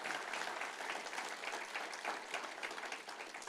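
Steady, dense applause from a church congregation praising God, clapping continuously at an even loudness throughout with no voices standing out.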